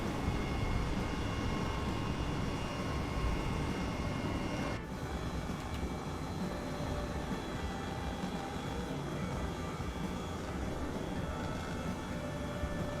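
Steady, continuous rotor and engine drone from a small helicopter hovering in Microsoft Flight Simulator, a broad even roar that holds for the whole stretch with a slight shift midway.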